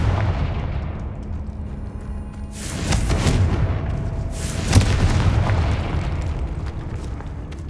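Confringo blasting spell in Hogwarts Legacy: two loud, close explosive booms a couple of seconds apart, each followed by a rumbling tail, set over a steady low ambient roar.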